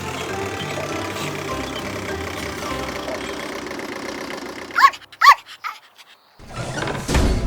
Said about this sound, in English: This is an excavator. And a bulldozer is coming up behind it.